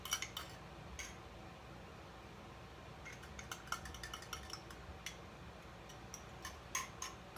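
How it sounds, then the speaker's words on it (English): A fork taps and clinks quickly against the side of a cup while whisking a chocolatey drink, faint and close, in irregular bursts of small metallic ticks over a quiet room hiss. "I take a fork and pretend it's a whisk. And just whisk."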